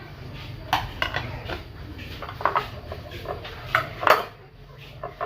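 Metal spoon scraping and clinking inside a pot while ingredients are stirred for a Lao-style duck blood dish, with several sharp knocks against the rim, moderately close, over a low background hum.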